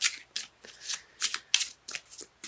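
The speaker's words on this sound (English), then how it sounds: "Cards let me know when they're done shuffling." Tarot cards are shuffled by hand in a run of quick, crisp riffling bursts separated by short pauses, close and fairly soft, with no talk.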